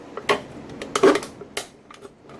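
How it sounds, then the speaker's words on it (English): Scissors cutting through a thin aluminum can while making a backpacking alcohol stove, several crisp snips and metallic crinkles in quick irregular succession, close and quiet. "And then you just take your scissors"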